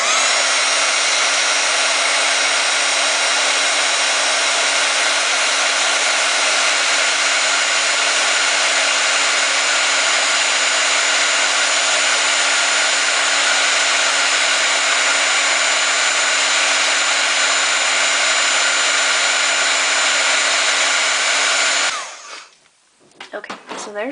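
A heat tool blows hot air over embossed textured cardstock, a loud, steady whooshing drone held for over twenty seconds before cutting off abruptly near the end.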